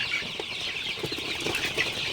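Sonali hybrid chickens, about a month old, flap their wings and cluck softly at night in a farm shed. Brief, muffled flutters come and go over a steady background hiss.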